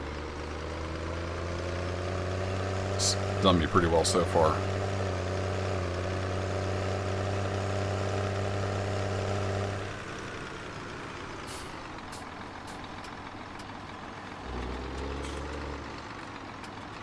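A 7810 tractor engine in the Farming Simulator 17 video game, a steady low diesel drone idling and running for about ten seconds, then easing off to a softer rumble, with brief clanks and someone talking quietly over it.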